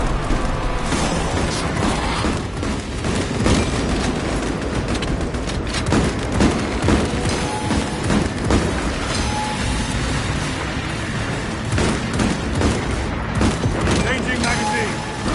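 Gunfire in a video game crackles in dense, continuous bursts with heavy booms and mechanical clatter, loud and close, while voices speak over the barrage.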